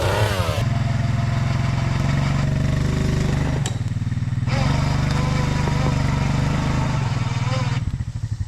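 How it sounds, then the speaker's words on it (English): A four-wheeler engine runs loud and steady while a winch drags storm-downed debris out of a food plot, with the motor droning throughout and a brief dip in pitch midway. "pulling all this stuff out with the winch and the four-wheeler"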